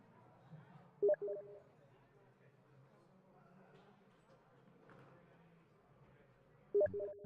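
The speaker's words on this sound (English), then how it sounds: "That was a Steam notification." A Steam notification chime sounds twice on a computer, short bright tones separated by several seconds, set against quiet background voice and low hum.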